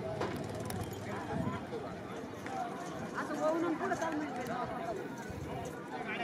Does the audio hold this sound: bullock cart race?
yes